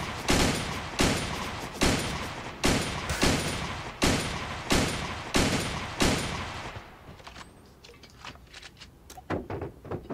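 SVD sniper rifle firing in a mobile battle royale video game: about eight loud, evenly spaced sharp cracks with short echoing tails, followed by quieter scattered clicks and handling noises.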